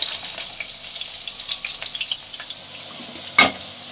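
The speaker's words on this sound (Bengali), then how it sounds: "আমার একটা ব্যাচ ভাজতে 2-3 মিনিট সময় লেগেছে" Cabbage pakoda batter frying in hot oil, a steady close sizzle with faint crackles throughout and one brief louder clatter near the end, no voices.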